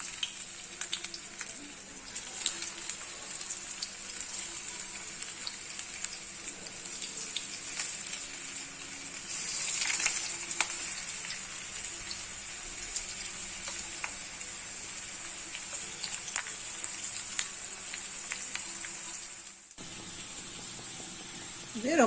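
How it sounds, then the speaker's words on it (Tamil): Potatoes frying in hot oil, a steady close crackling sizzle with occasional stirring, continuing throughout with a short dip near the end. "முதல்ல உருளைக்கிழங்கு பொரிச்சு எடுத்துக்கலாம்"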